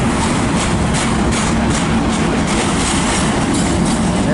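A long freight train rolls past close by, its wagons producing a loud, continuous rumble and rattle of wheels on rail, with faint clicking and squeal from the track.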